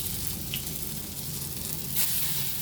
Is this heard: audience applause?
no